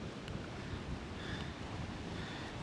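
Wind and surf at Coney Island beach in New York City around sunset, a steady, dense roar of wind buffeting the microphone over breaking waves, with no voices.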